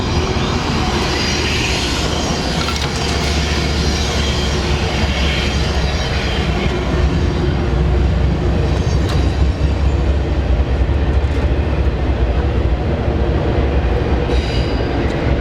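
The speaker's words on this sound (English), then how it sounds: "Man, this train coming through," A train rumbles past close by, loud and steady across the whole stretch, its wheels clattering in a continuous dense roar with no talk over it.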